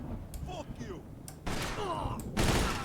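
A WWII weapon fires in the video game Mafia 2, giving a few loud, sharp bursts over a quieter background, with a voice talking.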